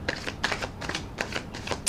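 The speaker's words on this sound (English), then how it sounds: "I'm going to do another shuffle and rifle." Tarot cards are shuffled and riffled by hand up close, a run of soft, papery bursts and fluttering riffles repeating in quick, uneven pulses, fairly quiet and with no talking.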